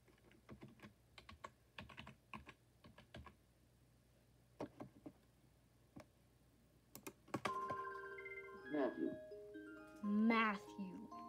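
Clicking on a computer keyboard, heard as scattered, irregular keystrokes close by. A few electronic tones and beeps follow near the end, briefly covering the typing.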